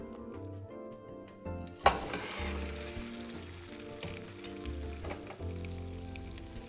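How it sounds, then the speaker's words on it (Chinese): Soft sizzling of eggs with minced pork frying in a pan over low heat beneath gentle background music, with a sharp clink of utensil against the pan early on. "小火继续煎至两面金黄"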